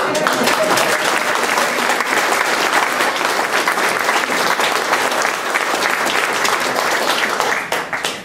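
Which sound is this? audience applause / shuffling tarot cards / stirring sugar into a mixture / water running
audience applause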